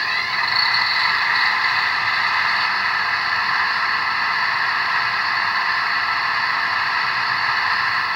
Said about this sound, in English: You get the wonderful sound of the buzzing HEP generator.